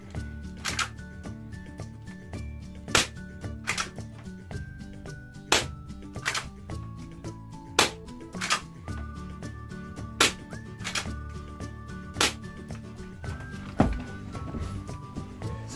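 A spring-powered SIG Sauer P226 airsoft pistol with a metal slide fires 0.12 gram BBs at a target. Sharp, close snaps come one at a time with pauses of a few seconds between them, over a faint steady tonal background.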